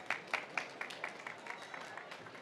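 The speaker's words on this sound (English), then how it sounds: "An applause, please." A smattering of applause from the audience at a COP29 youth climate session as a speaker is welcomed, a few sharp distinct claps at first, then softer scattered clapping, faint and distant.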